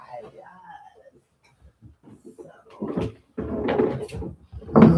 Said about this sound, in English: Let me push up my door just a little bit.